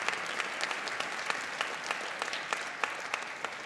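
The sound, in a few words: audience applause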